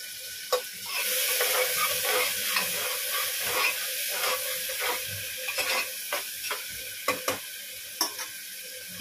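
Onions with a little salt frying in oil in a pressure cooker, a steady close sizzle with repeated scraping stirs and clinks of a spoon against the pot.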